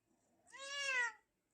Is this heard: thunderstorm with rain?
no